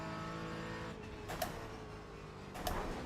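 A Porsche GT4 racing on the Nordschleife in the iRacing sim holds a steady, fairly quiet engine drone with a fixed pitch, interrupted by two short upshift bursts about a second apart.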